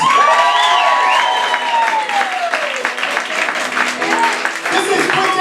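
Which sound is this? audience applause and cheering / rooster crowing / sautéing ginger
audience applause and cheering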